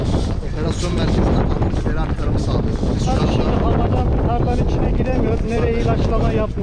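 Loud, steady wind buffets the microphone outdoors at a fairground, a constant roaring rush that drowns out any other detail.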